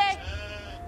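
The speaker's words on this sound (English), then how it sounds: "don't miss all these sheep here" A single short sheep bleat in a strategy video game, clear and close, with a wavering nasal tone.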